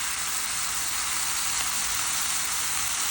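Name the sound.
cooked chickpeas added to sizzling sautéed vegetables in pot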